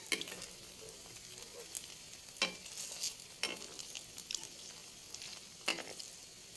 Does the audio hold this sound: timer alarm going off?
no